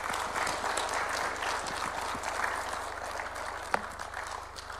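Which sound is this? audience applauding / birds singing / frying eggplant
audience applauding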